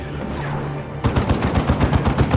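Spirit Leech ability in Dawn of War 2 during a 3v3 Warhammer 40k match: after a second of low rumble, a loud rapid train of crackling bursts sets in, closely spaced and repeating to the end.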